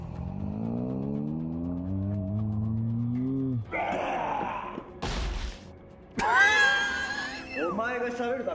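A character screams in a live-action Devil May Cry 5 cutscene. The strained, drawn-out vocal cry runs loud for about three seconds and then stops abruptly, followed by sharp bursts, whooshes and clattering effects.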